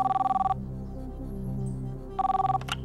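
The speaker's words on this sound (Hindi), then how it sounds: "फोन लगाया जाए" A telephone rings as a call is placed on a televised quiz show, with two short bursts of rapid pulsing ring separated by a pause filled with background music.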